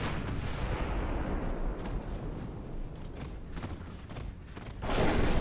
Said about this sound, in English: See how you like all 12 of the 12-inch guns.